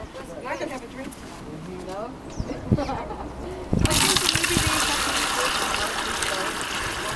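Water gushes out and drains from a basin at the equator line in Quito, a sudden loud rush starting midway and continuing steadily, after a stretch of people talking nearby.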